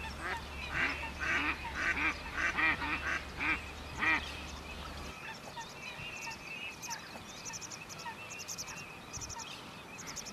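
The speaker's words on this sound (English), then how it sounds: "One of these is the mallard, a common autumn migrant and winter visitor" Repeated nasal quacking from mallard ducks in a rhythmic series, fairly close, then fading into quieter scattered calls over a low background hum.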